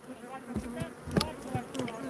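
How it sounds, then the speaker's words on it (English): Killer bees buzz close by around an old wellhead on a ranch, a dense droning hum that rises and falls as individual insects pass near. "The bees already lit up"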